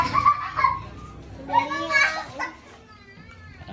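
Several children shout and chatter excitedly at once, loud and lively, with overlapping voices rising and falling.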